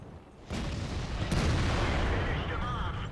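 Tank cannon firing in the World of Tanks video game, a single heavy boom followed by a sustained loud rumbling roar and battle noise, close and dominant.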